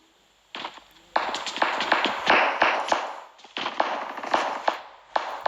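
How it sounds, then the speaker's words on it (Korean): Bursts of rapid video game gunfire crackle in quick volleys, sharp repeated shots over a few seconds with brief gaps, loud and close. "총소리. 정말 많이 울리는군요."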